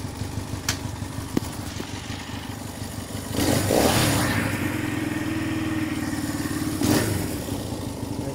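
A warmed-up Honda CB160 motorcycle engine runs steadily: a close, even mechanical chatter and putter, with a throttle blip that swells briefly to a louder rev and then settles back to idle, with no speech.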